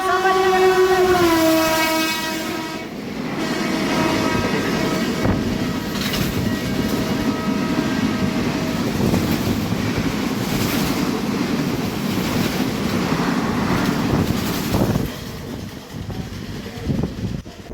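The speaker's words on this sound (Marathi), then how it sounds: "गुंटूर छत्रपती संभाजीनगर एक्सप्रेसची क्रॉसिंग जी आहे ती सुद्धा होणार आहे आपल्याला करमाड रेल्वे स्टेशनवरतीच" The Guntur–Chhatrapati Sambhajinagar Express crosses at Karmad railway station: a loud horn blast opens, then a heavy, continuous rolling rumble of wheels and carriages carries on close by.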